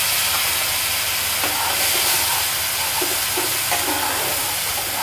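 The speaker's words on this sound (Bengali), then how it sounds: "দেওয়ার পরে এবার এর মধ্যে টমেটো পেস্টটা দেওয়া হচ্ছে।" Tomato paste sizzles in a hot pan of spices with Kashmiri red chili powder for a Bengali chhanar kofta curry, giving a loud, steady, continuous hiss close up, with no talking.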